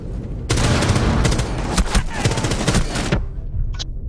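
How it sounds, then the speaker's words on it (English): Sustained rapid gunfire in a Rainbow Six match, loud and close, with dense bursts of automatic shots running for about three seconds before cutting off, followed by a single sharp report. "I'm getting shot at."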